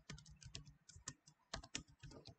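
Keys clacking on a computer keyboard while a board is set up for an ESP32 Blink sketch, a quick irregular run of close, crisp taps in short bursts with brief pauses, no voices.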